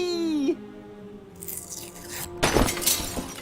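Stained glass window shattering in a video game: a sudden loud crash of breaking glass with tinkling shards, following a short wailing tone and a softer earlier crunch.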